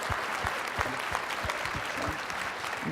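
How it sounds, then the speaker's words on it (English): An audience at a coaching group panel claps steadily for three seconds, dense and fairly loud, a wash of many hands with no talk over it. "Give her a round of applause."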